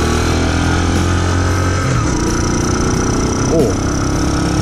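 A Honda Super Cub motorcycle, set up for downhill mountain roads, pulls away in first gear with a steady, loud, close engine drone throughout and a brief rising whine midway.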